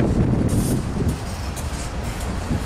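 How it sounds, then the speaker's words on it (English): KCS 4006, the Honoring Our Veterans unit, leads a train passing CP Bridge at night on the Norfolk Southern system: a loud, continuous rolling rumble with clattering wheels and faint high squeals. "Witnessing the train here at CP Bridge"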